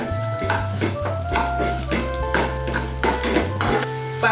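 Whole unpeeled garlic cloves fry in chickpea oil in a wok, a steady close sizzle with scattered pops and spoon clinks, under background music.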